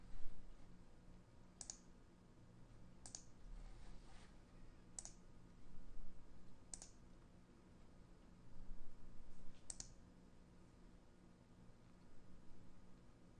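A computer mouse clicks five times at irregular intervals while a screenshot is captured with Snipping Tool, each click sharp but faint over a low background hiss.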